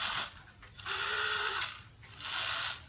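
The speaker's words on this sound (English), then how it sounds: "you can hear the motor spinning very fast" Inside an opened quartz clock movement, the small motor spins very fast as the hand is turned, giving a close, buzzing whir that swells in two or three bursts.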